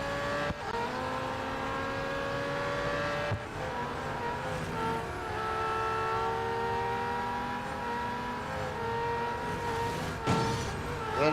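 Race car engines in the mobile racing game Real Racing 3 drone and rev loudly and continuously, with shifting pitch as gears change and occasional brief dips, a steady close mechanical roar throughout.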